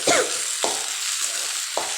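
Onion and tomato sautéing in butter in a pan, a close steady sizzle broken by a few sharp spoon scrapes and stirring knocks over two seconds, no talking.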